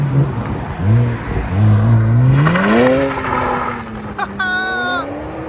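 2011 BMW 1M with a 3.0L turbo inline-six, six-speed and resonator-deleted exhaust, rising in a rev sweep then settling to a steady tone, loud and close, under excited talking voices.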